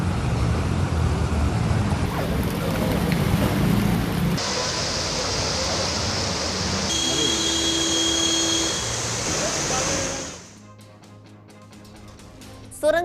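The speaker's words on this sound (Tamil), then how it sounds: "தலைநகர் டெல்லியில் கொட்டிய கனமழையால் வெள்ளக்காடான சாலைகள்." Heavy rain pouring down in Delhi, a dense, loud broadband hiss that shifts in character and then drops away abruptly near the end.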